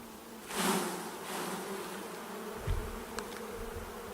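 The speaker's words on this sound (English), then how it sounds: "Shake some of these bees off." Honeybees swarm around an opened hive frame during an early spring inspection, a close, continuous droning buzz that swells and eases, with a few soft thumps and knocks from handling the frame.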